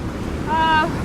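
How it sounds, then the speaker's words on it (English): Water pouring out below the Monroe Lake dam at the Salt Creek Recreation Area, about 280 cubic feet per second, makes a steady broadband rush. A brief tonal sound rises over it near the end. "probably around 280 cubic feet per second coming out of the dam right now"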